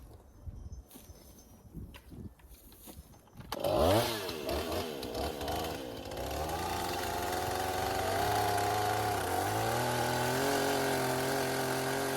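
A chainsaw smooths a log for a tiny off-grid cabin: after quiet handling it starts abruptly, revs, then settles into a loud, steady cutting whine that continues to the end, close and alone.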